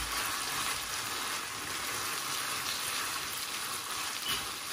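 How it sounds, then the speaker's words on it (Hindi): Tomatoes and green chilies sizzle steadily in a hot pan as they are mixed in for a pasta bolognese sauce, a continuous bright frying hiss that stays even and close throughout, with no talking. "हम इसके अंदर डालेंगे टमाटर और सब्ज़ मिर्च जो हमने काट के साइड पर रखी हुई है। इसको अच्छे से मिक्स करेंगे।"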